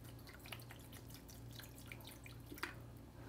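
Water poured over a pair of smartphones in a freeze test, heard as sparse drips and small splashes over a low steady hum, ending in a louder splash.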